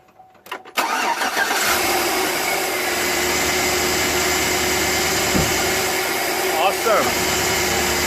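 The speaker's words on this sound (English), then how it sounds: "Wow, look at that motor hum." A 2008 Chevrolet Suburban engine cranks and catches after a belt and tensioner replacement, then settles into a steady, smooth idle hum with no rattles, close and continuous, with a voice speaking briefly.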